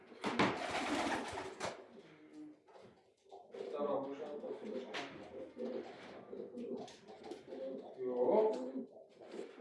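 Pigeons cooing nearby in soft, repeated throaty calls, with a clear burst near the end, heard over a rustling start and people talking in the background.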